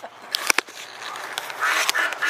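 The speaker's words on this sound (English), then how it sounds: "even the ducks are laughing at you" Ducks quacking close by at a church festival near the water, a burst of loud, nasal quacks rising into a busier chorus toward the end, with no talk over them.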